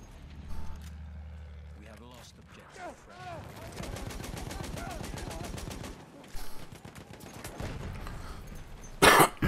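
Gunfire in the video game Battlefield 1, with bursts of automatic shots and sharp reports scattered through a busy battle mix, a loud crack near the end, and players talking over it.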